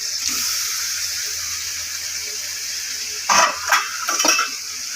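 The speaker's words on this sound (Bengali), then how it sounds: "ভালো করে মিশিয়ে দেবো" Fried chicken pieces are mixed into cooked-down masala in a pan. A steady low hiss runs throughout, then a few short scraping clatters of stirring come near the end, with no talk.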